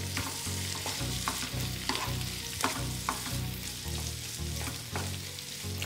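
Vegetables with tomatoes sizzle steadily in a hot frying pan while a utensil scrapes and stirs them in repeated strokes, close up, with no talking.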